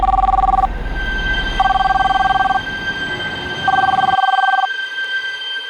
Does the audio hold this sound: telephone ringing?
yes